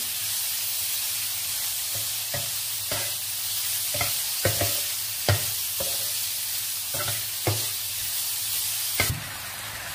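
Chicken pieces frying thoroughly in a hot pan give a steady, fairly loud sizzle, broken by repeated spatula knocks and scrapes as they are stirred; no voices.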